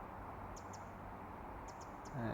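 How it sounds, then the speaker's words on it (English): A small unseen bird chirps faintly in the distance, a few brief high calls in two short clusters over steady outdoor background noise, while a woodpecker works on a tree nearby. "There's something chirping."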